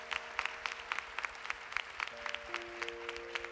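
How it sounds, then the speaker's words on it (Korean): Congregation clapping together at a Korean church youth candlelight worship service, a steady, fairly soft patter of many hands over a faint sustained organ or keyboard tone. "우리 큰 박수를 좀 보내드리시죠."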